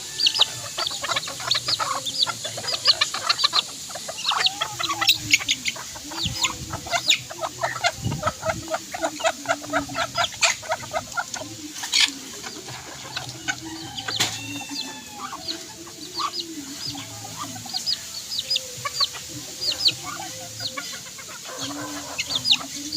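Backyard chickens cluck and chatter continuously at close range, a dense busy stream of short calls with occasional louder squawks and scattered clatter, no voices.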